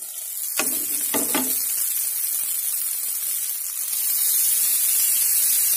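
Chopped fenugreek leaves hit onions frying in oil, setting off a few quick crackles and then a dense, hissing sizzle that grows louder toward the end.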